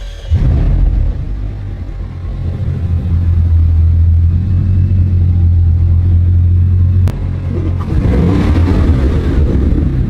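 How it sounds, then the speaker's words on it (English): A Bugatti Chiron engine, in a rebuilt wrecked car, starts with a low rumble, idles steadily, then revs up briefly near the end, close and loud. "He starts the engine again."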